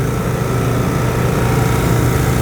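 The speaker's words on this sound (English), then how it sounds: "So the generator has to be running to power the air compressor." A generator runs on a 2012 Chevy Silverado K3500HD utility service truck, powering its air compressor: a steady, loud, continuous engine drone with no pauses or talk.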